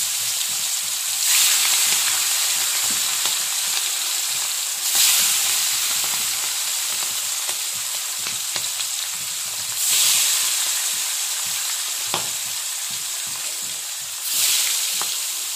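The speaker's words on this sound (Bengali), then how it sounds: "এবার আমি আস্তে আস্তে মাছগুলোকে ভেজে নেব।" Fish frying in plenty of hot oil, a loud continuous sizzle and crackle with several surging bursts as pieces are lowered in, no voices.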